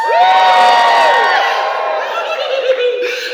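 Crowd at a Halloween haunted attraction show screaming and cheering together, a loud sustained burst of many voices with whoops that fades slightly toward the end.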